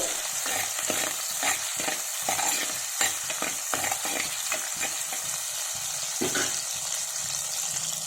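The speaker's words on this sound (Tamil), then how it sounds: "இப்போ இந்த வெங்காயம் நல்லா வதங்கட்டும்." Crushed small onions sauté in a hot pan with a continuous bright sizzle, while quick, repeated spatula strokes scrape and stir nearby throughout.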